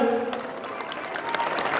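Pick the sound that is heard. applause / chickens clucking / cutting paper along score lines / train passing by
applause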